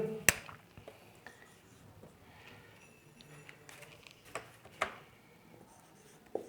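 Writing on a board during a physics lecture comes through as quiet scratching strokes and a few sharp taps spread across a hushed room.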